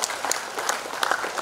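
An audience applauds a minister at the grand opening of the Gold Coast International Ferry Terminal in Bengkong, giving steady, dense clapping from a sizable crowd throughout.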